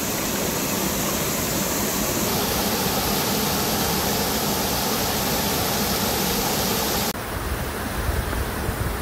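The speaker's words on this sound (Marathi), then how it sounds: "तर हा होता तो धबधबा." A natural waterfall in the Konkan hills roars as a steady, dense, broadband rush of falling water, loud and close throughout, with a brief shift in tone near the end and no talk.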